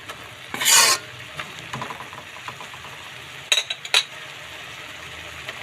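Onion and garlic are stirred and sautéed in a pan, giving a soft continuous sizzle broken by a few loud scraping strokes of a utensil near the start and later, near and clear, with no talk.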